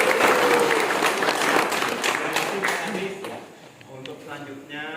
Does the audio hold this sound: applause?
yes